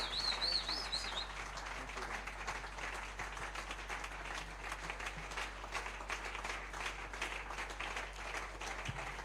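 A church congregation applauds steadily and fairly loudly throughout, a dense continuous patter of many hands, with a few bird chirps briefly audible at the start.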